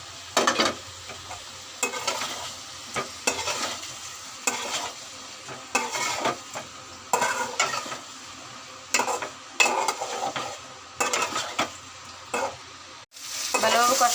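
Egg and boiled potato curry stirred in a sizzling pan, repeated spoon scrapes and clinks against the metal in irregular bursts over a steady background fry.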